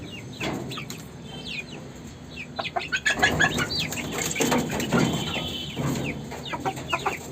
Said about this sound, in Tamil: நம்ம வெள்ளைக்கோழி பாருங்கள்